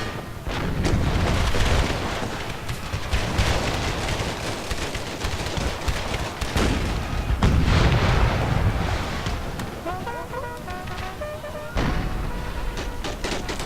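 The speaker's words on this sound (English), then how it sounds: "Oh, look, we got the artillery." Booming artillery fire from the Empire Total War video game, Blue and Gray mod, rolling as dense, continuous battle noise with repeated low blasts and crackling volleys throughout, loud and layered.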